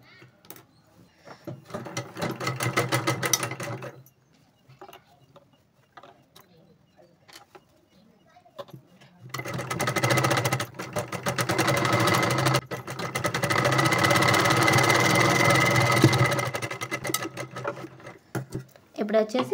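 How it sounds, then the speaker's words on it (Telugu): Domestic sewing machine stitching the sleeve of a Rapunzel-style blouse, two bursts of steady mechanical whirring, a short one then a longer run, with quiet pauses and soft handling noise between. "ఇప్పుడు వచ్చేసి ఎక్స్ట్రాగా మరో 2 కుట్లు వేసుకోవాలి"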